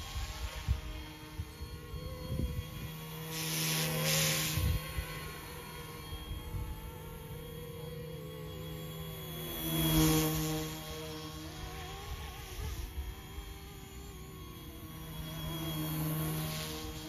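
A YuXiang F08 Bell 206 Jet Ranger RC model helicopter's rotor drones and whines steadily at a distance, swelling louder now and then as it passes, with no talking.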